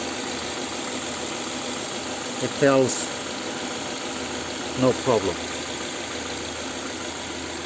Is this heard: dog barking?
no